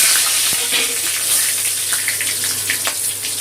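Whole garam masala, bay leaf and dried red chilies tempering in hot oil in a pan: a dense, loud, continuous crackling sizzle close up, with a few small pops and spoon knocks.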